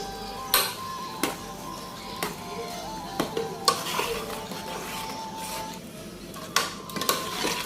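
Onion, tomato and masala with mashed red kidney beans sautéed and stirred in a pan for rajma curry: a low sizzle beneath repeated sharp clinks and scrapes of the spoon against the metal pot.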